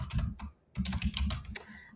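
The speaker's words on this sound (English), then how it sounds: "You will just type in information" Quick keystrokes on a computer keyboard, a close, busy patter of clicks with a brief pause midway before the typing resumes.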